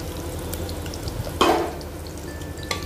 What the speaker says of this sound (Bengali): আমার তেল গরম হয়ে গেছে। আমি এর মধ্যে দিয়ে দিচ্ছি পেঁয়াজ কুচি,